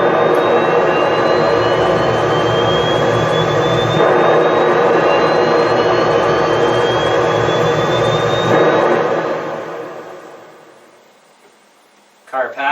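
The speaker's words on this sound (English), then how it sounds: "First, jet plane." Jet plane sound effect played on a Yamaha DGX-660B digital keyboard: a loud, steady roar with a slowly rising whine that holds for about nine seconds, then fades out, followed by a brief voice at the end.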